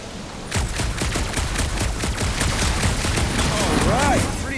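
Rapid gunfire aimed at a gunked-up reactor in Marvel's Guardians of the Galaxy, a dense fusillade of loud shots starting abruptly and continuing without pause, with a rising whine near the end.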